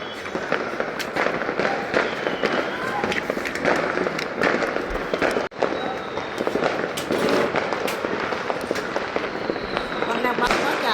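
A sustained, loud barrage of home fireworks crackles and bangs in rapid succession with occasional whistles, nearly unbroken except for one brief gap, as people talk beneath the noise.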